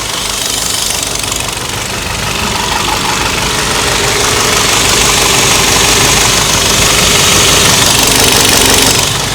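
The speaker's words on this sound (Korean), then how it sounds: "바로 이제 시동 걸어놨으니까 엔진 소리까지 들려드리도록 하겠습니다." A Kia Lotze Innovation LEX car engine idles steadily with a constant low rumble and a faint rhythmic knock, close by and continuous throughout, with no voices.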